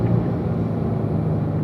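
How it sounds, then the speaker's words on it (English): Corvette engine on a racetrack at Spring Mountain, a steady low rumble of the motor under way, moderately loud and continuous, with no talk. "downshifting to third"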